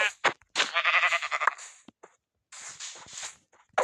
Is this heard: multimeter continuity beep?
no